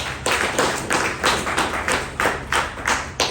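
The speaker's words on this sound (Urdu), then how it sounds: "آپ کی بھرپور تالیوں میں" An audience at a business seminar claps in rhythmic unison, about a dozen firm beats in quick steady succession, close and loud, with no talk.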